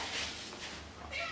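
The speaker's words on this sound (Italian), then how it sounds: "Gatto Denver, ecco, Gatto Denver sta qua" A cat meows at a home mealtime, one or two drawn-out calls rising over a low background hum and some nearby voice sounds.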